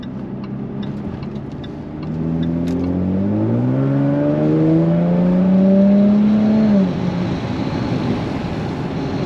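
A Jaguar F-Type Cabriolet 3.0 V6 340 hp engine revs up from a low rumble to a rising, strained roar, holding high before easing off, heard from nearby.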